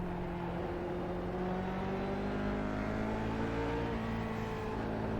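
A car engine in a driving sim on the Nürburgring track hums steadily, pitch rising slowly as it accelerates, continuous and moderately loud with no talk.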